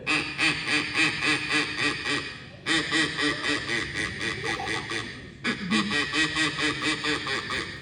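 A person imitates ducks quacking in rapid, rhythmic runs, loud and close, with two short pauses between the bursts.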